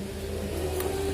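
A small radio-control model engine runs at a steady throttle with a sustained mid-pitched drone and faint buzzing overtones, close by and without speech.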